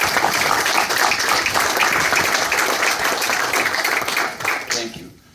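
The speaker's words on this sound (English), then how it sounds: "I think they deserve a round of applause." Applause at a county office building ribbon cutting, steady crowd clapping that holds for about five seconds and then tapers off.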